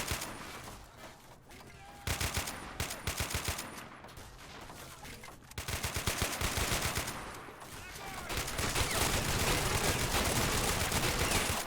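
Dense bursts of automatic and rifle fire from Men of War: Assault Squad's Grozny uprising battle, sustained rattling volleys that swell and fade in waves with faint speech and battle noise mixed underneath.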